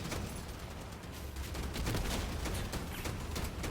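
Gunfire in a video game: dense, noisy bursts of rapid shots packed tightly together, loud and continuous for a few seconds with a rumbling low end.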